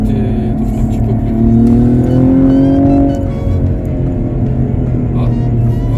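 Cadillac CTS-V engine revs hard while being driven, with a loud rising rumble that swells and eases as speed builds, close up and mostly alone.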